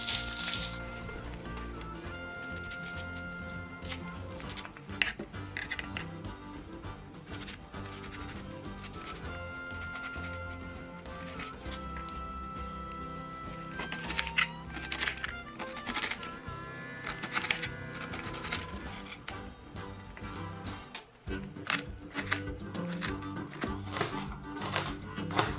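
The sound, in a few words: chopping a refrigerated onion with a knife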